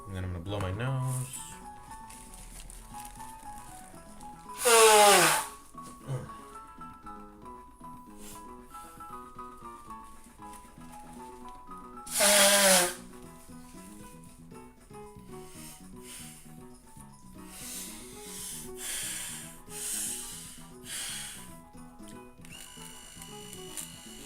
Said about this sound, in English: And then I'm gonna blow my nose.